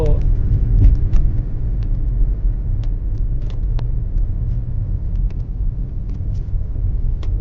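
A car driving along a hill road through mountain villages, heard from inside as a steady, loud engine and road rumble with faint ticks and rattles and no pauses.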